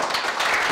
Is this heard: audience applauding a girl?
yes